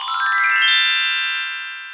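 A bright electronic ringtone melody, fitting an incoming phone call, plays alone and fairly loud, then holds its tone and slowly fades away.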